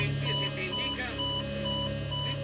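An alarm sounds in the cockpit of Aeroperu Flight 603, a Boeing 757, as captured by the cockpit voice recorder: repeating electronic warning tones with a steady sustained pitch, loud and continuous across the stretch.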